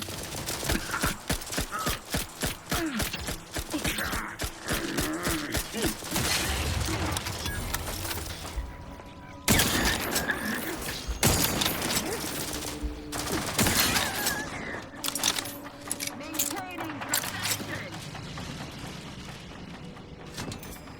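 Enemy miniguns roar in The Outer Worlds 2, long sustained streams of rapid-fire shots with mechanical whirring, loud and close, pausing briefly before resuming in heavy bursts amid impacts and clanking.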